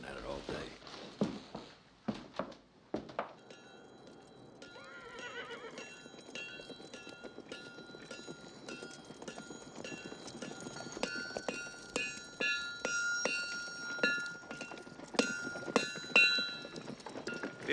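Horses whinny and their hooves clip-clop steadily on the ground, with several sharp neighs at the start and the hoofbeats growing louder toward the end. Someone speaks briefly over them.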